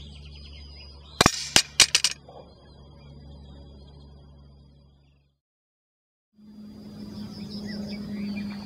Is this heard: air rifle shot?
yes